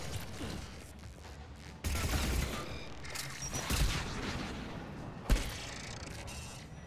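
Gunfire from enemies in the video game Mass Effect Legendary Edition, a muffled, steady rattle of shots with a few heavier thumps, fairly low in level behind game ambience.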